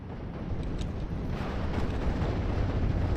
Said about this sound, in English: taking out some half-tracks here and there, blowing up one, causing another one to bail on out